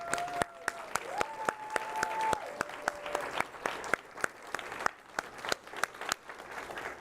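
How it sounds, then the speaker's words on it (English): Audience applause for a panel at an evening industry meet-up, with scattered individual claps and a few sharp near hand claps over a steady crowd wash, a sustained musical tone briefly sounding early on. "And a huge round of applause for our panel."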